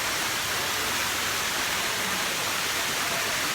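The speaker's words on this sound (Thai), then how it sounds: "บรรยากาศน้ำตกครับ" A waterfall in a park in Suphan Buri, Thailand pours as a steady, broad rushing roar, even and unbroken throughout, fairly close with no talk.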